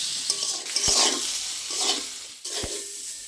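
Pointed gourd sizzles in mustard oil with salt and turmeric, a crackling fry broken by three sharp scrapes and knocks of a spatula stirring against the pan, close and clear.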